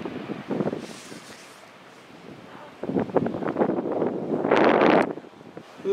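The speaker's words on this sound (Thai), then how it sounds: "ลมหนาว" Cold wind gusts buffet the microphone at Coronado Beach in San Diego, irregular rushing bursts that swell loudest near the end, close and rough.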